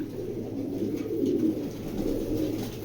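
A Belgian racing pigeon from a loft coos in a low, continuous burbling murmur that swells and eases without a break. Close and steady, with no talk over it.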